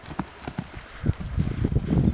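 A horse's hooves thud on ground during riding training, a near, steady rhythm of clip-clopping beats that grows denser and louder over a couple of seconds.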